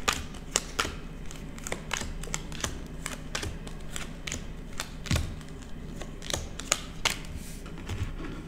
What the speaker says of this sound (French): je n'arrive pas à choper les cartes